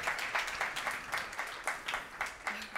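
Light applause from a small group in a dental office, a thin, quiet patter of hands clapping in loose bursts that continue steadily for a few seconds.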